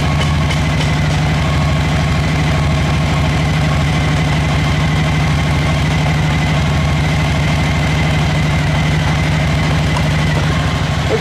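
Motorcycle engine idling steadily after a stator replacement, a continuous close low rumble with even mechanical vibration and no talk.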